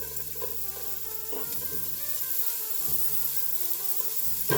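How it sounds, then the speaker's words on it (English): Onions sautéing in avocado oil in a stock pot make a steady, close sizzle with occasional stirring scrapes and clatter, no voices. "to my stock pot, I am going to add some avocado oil and then my onions."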